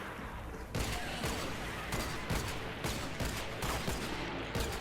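An automatic gun in a video game fires long, continuous rapid bursts that stay loud and dense throughout, with no break in the shooting.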